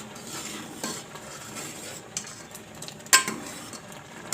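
Kheer is stirred in a pot after pistachios, almonds, cardamom and nutmeg go in, making a soft scraping swirl with light bubbling and one sharp metallic clink, close and without voices.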